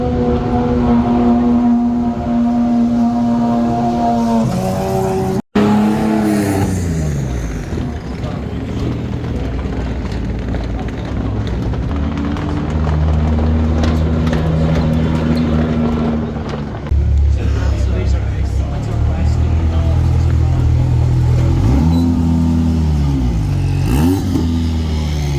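Cars leave Goodwood at the close of the day, with engines droning, revving and shifting pitch as they pass one after another. Muffled voices and a sharp knock sound under the nearby traffic.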